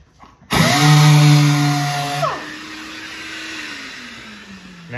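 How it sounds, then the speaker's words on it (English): A power sander starts on the surface of an arcade cabinet during restoration, revving up loudly with a strong whine, then winding down and fading into a lower, quieter hum. "how I just barely hit it with a sander"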